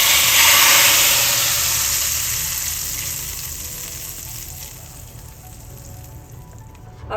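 Garlic browned in pure ghee for a tadka is poured into dal and hisses in a loud, bright burst of sizzling that slowly settles into a softer, steady frying crackle.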